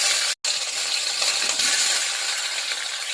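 Mustard seeds and urad dal tempering in hot oil, a steady close crackling sizzle with a brief dropout of silence near the start.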